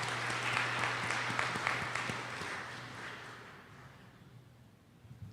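An audience at a community meeting on strategies against gun violence breaks into loud applause that gradually fades away over several seconds, with a few claps returning at the end.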